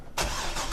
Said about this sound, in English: Okay, so that's a plus. The car started.